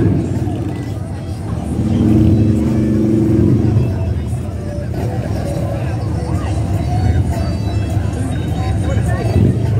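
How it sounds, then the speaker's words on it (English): Motorcycles from a club in a Christmas parade rev their engines in a loud, continuous throaty roar that swells and dips, with crowd chatter mixed underneath. "Let's hear the motorcycles one time,"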